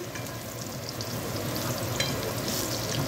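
Food frying in a small amount of oil for sweet and sour meatballs, a steady, even sizzle heard up close and uninterrupted, with no speech.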